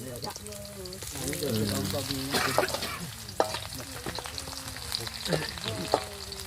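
Chopped onion sizzles steadily in a pan for fried rice, with stirring scrapes running throughout and faint voices in the background.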